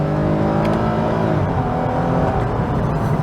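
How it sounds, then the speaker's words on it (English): Lexus IS350 with the naturally aspirated 2GR V6 revving hard, a loud, steady engine roar with rising harmonics that climbs continuously through the short stretch, close-up and alone with no talk. "It's a typical naturally aspirated engine where you have to get the revs up"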